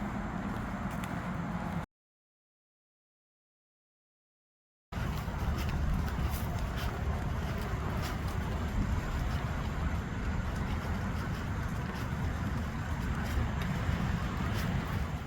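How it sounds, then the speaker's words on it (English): Traffic from major roads crisscrossing around the Appalachian Trail between Montvale and Daleville, Virginia, makes a steady, distant broadband rumble. It is heard over open-air wind noise and cuts out briefly near the start. "You can hear all the major roads crisscrossing around us and the traffic."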